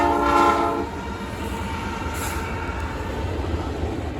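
Train with two different foreign-road locomotives in a short consist passing, a loud horn blast at the start giving way to steady rumbling wheels and railcar clatter, no voices.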